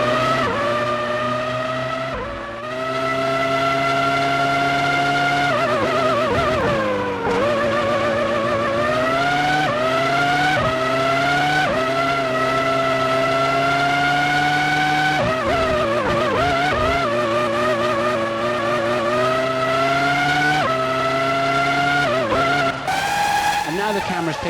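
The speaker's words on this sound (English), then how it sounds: "Ferrari's Michael Schumacher sets a new fastest lap of the race" Formula One cars in the F1 2003 video game at the Austrian Grand Prix, howling V10 engines rising and dropping through gear changes in a constant loud drone, with commentary voices running underneath.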